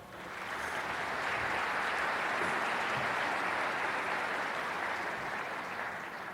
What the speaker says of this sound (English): Please join me in a warm round of applause for our platform party.